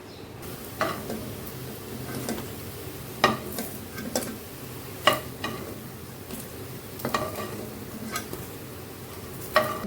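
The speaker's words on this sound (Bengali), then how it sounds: "এখন এই মুইঠাগুলো আমি ভেজে নিব" Soybean muitha dumplings fry in a little oil in a wok with a soft, low sizzle, broken by sharp repeated clinks and scrapes of a spatula stirring against the pan.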